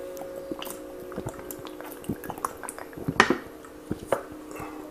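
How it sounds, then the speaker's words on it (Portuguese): A person drinking a sip of water indoors, with soft swallowing and wet mouth sounds, a light clink of a glass or cup, and small scattered clicks, close and quiet with no speech. "Deixa eu beber um pouco de água."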